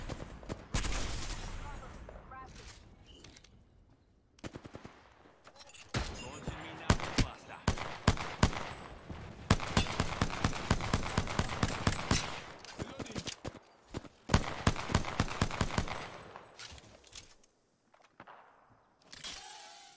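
Video game gunfire in rapid bursts, dense crackling volleys of automatic shots, loud and close, with pauses between runs and occasional sharp single cracks and impacts throughout.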